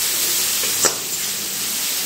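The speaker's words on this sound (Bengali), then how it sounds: "এবারে সব কিছু মিশিয়ে এই পেঁয়াজগুলো একটু ভালো করে লাল লাল করে ভেজে নিতে হবে।" Onions with green chillies, salt and turmeric fry in a pan, a steady close sizzle and hiss broken by one brief stir or scrape, with no voices.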